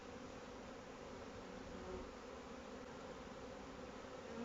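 Soft, continuous buzzing of many honeybees at a hive entrance during swarm handling, a low steady hum with faint fluctuations, quiet and close with no talking.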